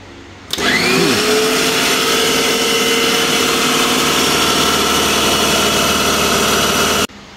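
A blender whirs at high speed making sweet lime (mosambi) juice, starting abruptly, settling into a loud steady motor drone for about six seconds, then cutting off.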